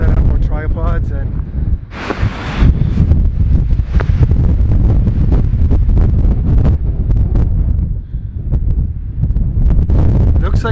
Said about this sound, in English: like the wind is actually coming from the canyon